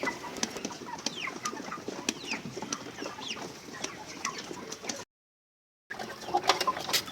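Chickens in farm cages cluck and peep steadily amid soft pattering and shuffling, with a brief gap of silence near the end before the clucking resumes.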